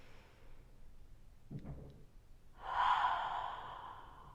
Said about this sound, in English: That small constriction that you feel in the back of your throat as you're exhaling with that HA